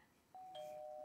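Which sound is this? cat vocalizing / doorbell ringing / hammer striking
doorbell ringing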